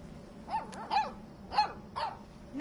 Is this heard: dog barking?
yes